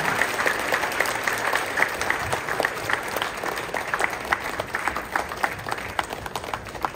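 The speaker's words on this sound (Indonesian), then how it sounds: "tepuk tangan buat panitia" A graduation ceremony crowd applauds the organizing committee, a steady, moderately loud patter of many clapping hands sustained throughout with scattered sharper claps and no voices on top.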